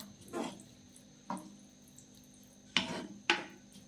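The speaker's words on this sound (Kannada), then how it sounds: "ಇದಕ್ಕೀಗ ನಾವು ಮೊಸರೇನು ಇಟ್ಕೊಂಡಿದ್ವಿ ಅದನ್ನು ಹಾಕಿ ಚೆನ್ನಾಗಿ ಮಿಕ್ಸ್ ಕೊಡಬೇಕು" Spoon clinks and scrapes against a pot as curd is mixed into cooked, cooled ridge gourd, four distinct stirring knocks spaced apart, close and moderately loud, with no talking.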